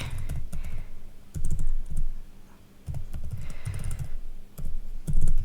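Keys clatter in quick uneven bursts with short pauses as text is typed on a computer keyboard, close and fairly loud, with no talking.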